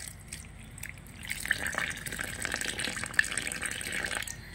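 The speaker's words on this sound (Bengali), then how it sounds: "এবার আমি এখানে জল দিয়ে দিচ্ছি।" Water is poured into flour mixed with shortening to make dough for khasta goja, a steady trickling splash that runs for a few seconds, close and fairly quiet, with no one talking.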